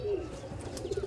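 Racing pigeons coo in low, soft repeated phrases close by, with faint chirps and background rustle mixed in.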